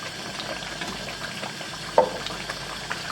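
Cream being poured into a pot of simmering one-pot lasagna soup, a steady soft liquid hiss and bubbling close by with a brief splashy burst partway through.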